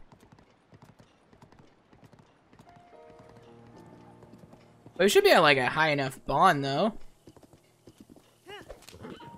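A horse in the Zelda: Breath of the Wild video game clip-clops steadily in the background, then gives loud, close whinnies and neighs, with a person talking over the hoofbeats near the end.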